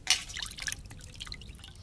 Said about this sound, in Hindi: दोस्तों एक पानी से साफ करके हम और धो लेते हैं, जो साफ हो जाएगा।